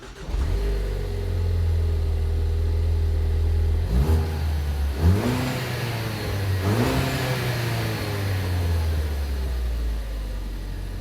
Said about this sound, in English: we'll start with a quick sound clip of the factory exhaust